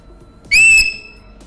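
A person produces a loud, piercing whistle-like screech from the throat, one sustained high tone lasting about a third of a second that bends slightly and then cuts off, alone in a quiet room.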